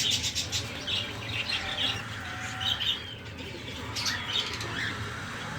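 Newly hatched cockatiel chicks give high, thin chirps and brief squawks in scattered bursts over a steady low background hum.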